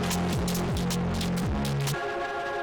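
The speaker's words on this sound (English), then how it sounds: "this is literally just becoming this big distorted mess" A dense future garage music mix, heavily saturated, buzzing and smeared with distortion, with a low synth line stepping through pitches under harsh crackling texture.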